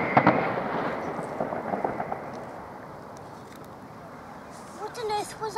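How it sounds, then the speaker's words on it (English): Distant fireworks thump and crackle in a quick irregular cluster at the start, then fade, heard faintly outdoors at a lakeside fishing spot. "I believe it's probably a firework display at the Liberty Well"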